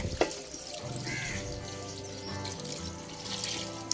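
Coconut milk, a thin second pressing, poured into a pan of chicken fried rice, giving a steady watery pouring and splashing wash that runs nearly the whole stretch at moderate level, with no talk over it.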